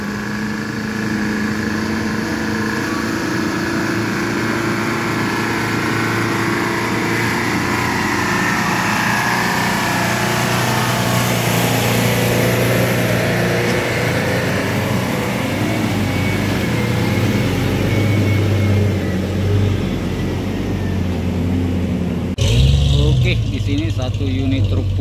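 Diesel 4x4 truck engine droning steadily while towing a Thermoking refrigerated truck up a steep hill, a continuous loud engine note with a sharp clunk near the end, and someone talking over it.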